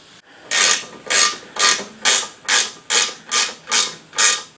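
A ratchet clicks through eight even strokes while a header tank is bolted onto a Triumph Dolomite Sprint rally car under restoration, each loud close pull rising and fading in steady rhythm.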